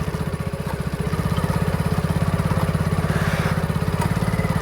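A motorcycle engine runs close by on a mountain road during a delivery ride, a steady, even throb of rapid low pulses that holds its pace from start to end, with no voices over it.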